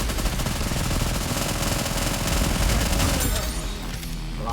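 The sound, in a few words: gunfire in a video game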